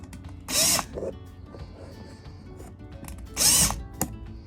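A power drill spins off bolts from an RV slide-out gearbox in two short bursts of loud whirring, separated by quieter mechanical clicks and shuffling nearby.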